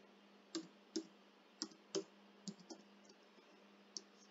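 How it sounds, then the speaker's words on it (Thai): Clicks from a computer keyboard as a game name is typed: several sparse, quiet key taps at uneven intervals over a low steady hum, close and faint. "แล้วก็พิมพ์ชื่อเกมเข้าไปเนี่ย"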